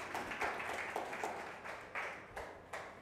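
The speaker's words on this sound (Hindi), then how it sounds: "दिलीप भाई को जोरदार ताली से धन्यवाद करें" Audience applause in a church gathering thanking Dilip bhai, a few seconds of moderately loud clapping from a crowd in bursts that swell and fade.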